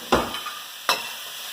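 Mushrooms sweat in oil in a pan, with two brief stirring scrapes over a soft, steady sizzle, close up.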